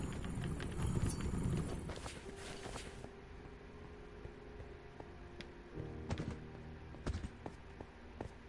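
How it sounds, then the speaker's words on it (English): Hooves of a demon horse clip-clop in a Nether monster hunter video game, a run of hard, irregular taps over a low rumbling background, with a heavier flurry early on and sparser, louder strikes toward the end. "The demon horse."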